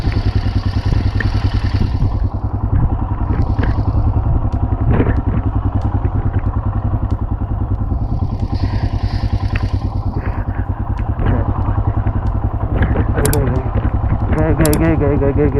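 Steady, loud motorcycle engine drone while riding over snow on the Chang La pass in Ladakh during heavy snowfall, continuous throughout with clattering mechanical noise and occasional knocks.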